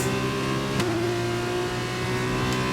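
A Formula 1 race car in the F1 2021 video game accelerating at high revs, a steady, loud, buzzing engine drone with layered harmonics and a brief gear-change blip, close and alone without talk.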